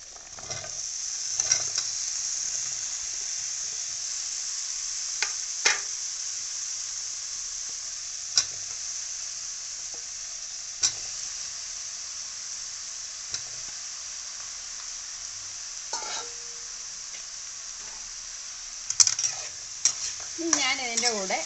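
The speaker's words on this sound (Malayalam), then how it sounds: "അപ്പോൾ ഈ ഒരു സമയത്ത് നമുക്ക് അരിഞ്ഞു വെച്ചിരിക്കുന്ന ബാക്കി വെജിറ്റബിൾസും കൂടെ ഇതിൻ്റെ കൂടെ ഒന്ന് ഇട്ട് കൊടുക്കാം." Chopped vegetables stirred into elephant foot yam for koottu curry make a steady sizzle and hiss, with sharp spoon taps on the pan at intervals and a burst of stirring clatter near the end.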